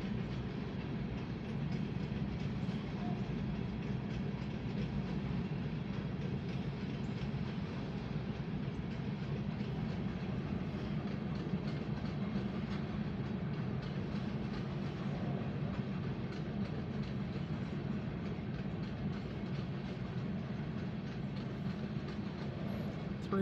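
Norfolk Southern freight train cars roll past close by in a steady, continuous rumble with faint rhythmic wheel clatter, sustained and loud for the whole stretch.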